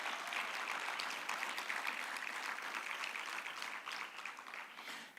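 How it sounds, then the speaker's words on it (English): Conference audience applauding, a steady wash of many hands clapping at moderate distance that fades slightly toward the end, with no voices over it. "Let's give Martin a very good round of applause"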